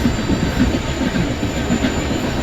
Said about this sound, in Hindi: ये कोई ट्रेन भी शंट होती हुई यहाँ पे